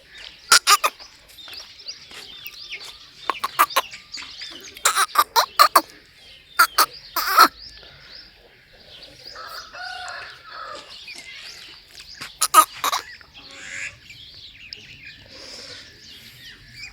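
Chickens cluck and squawk in short, scattered bursts, with brief gaps of near-silence between the calls.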